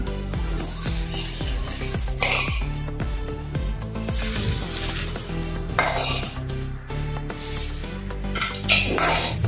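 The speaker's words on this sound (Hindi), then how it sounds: "इसके ऊपर हम तड़का डालेंगे।" Hot tadka tempering sizzles as it is poured over a moong dal breakfast dish, with loud clinking of metal pots and a spoon stirring alongside the continuous frying hiss.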